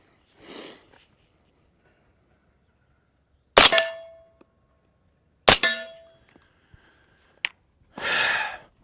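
A Palmetto 300 Blackout rifle fitted with an Energetic Peak 30 suppressor fires two sharp, muffled shots a couple of seconds apart, each with a brief ringing tail, amid quiet outdoor surroundings and soft breathing noises.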